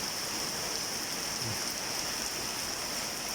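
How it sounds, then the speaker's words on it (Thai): Heavy rain pours steadily in a dense, unbroken wash of noise, close and constant, with no voices. "บรรยากาศฝนตกตามไปชมบรรยากาศกัน"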